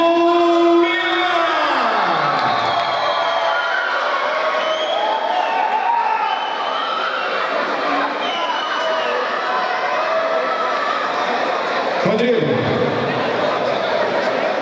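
Crowd at a 2012 Vale do Aço Fight MMA event cheering and shouting for fighter Rodrigo, a loud steady roar of voices and whoops filling the whole stretch, with a brief swell near the end.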